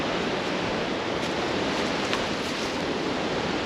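Ocean swells and surf rolling in at a Hawaiian shoreline, a continuous broad wash of breaking water with wind, steady and fairly distant, no voices.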